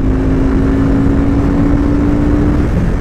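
FKM Coolser 500 motorcycle engine revving hard and held near 8,000 RPM under acceleration, a loud steady drone with a sustained tonal whine that drops off at the end.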